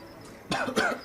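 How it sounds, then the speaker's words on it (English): Two quick, close coughs of someone coughing up blood, one right after the other, over a low steady background hiss. "I cough up a little blood."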